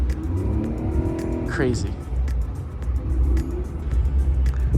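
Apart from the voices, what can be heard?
bus engine driving on water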